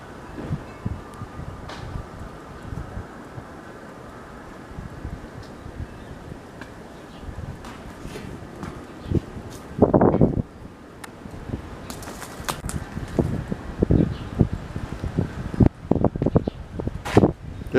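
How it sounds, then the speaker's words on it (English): Wind blows through trees and buffets a Canon camera microphone, producing steady rustling with irregular low gusts that swell louder in the second half. "There's some good wind noise right now. You can see the trees. Right now the wind is blowing."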